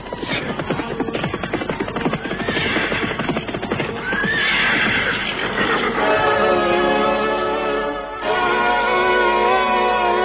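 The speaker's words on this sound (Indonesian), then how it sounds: "dari jauh datang serombongan orang-orang" A group of horses neighs and whinnies loudly in an audio drama as mounted riders arrive, with hooves clip-clopping underneath and overlapping, sustained calls throughout.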